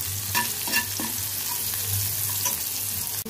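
Sliced onions sizzle steadily in an oiled pan as they brown for a long-beans sabji with mustard seeds, with a few soft stirring scrapes and no talk.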